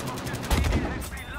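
A flak gun fires in the World War II shooter Battlefield 5, heard as a short, dense burst of rapid booming shots that lands loud against a constant rumble of in-game noise.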